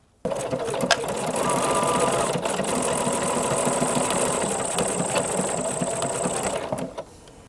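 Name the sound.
sewing machine stitching with embroidery foot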